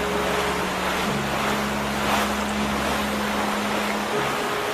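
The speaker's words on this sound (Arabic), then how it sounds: "العاصفة تشتد" Stormy sea surges around a fishing boat, a constant loud wash of wind and waves over a low steady engine drone, with no voices.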